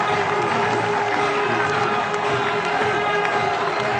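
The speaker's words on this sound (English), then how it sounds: "Cries of easy in the crowd." A cricket crowd at a 2005 NatWest Series match between Bangladesh and Australia shouts and cheers together after a catch, a dense, loud, sustained roar of many voices.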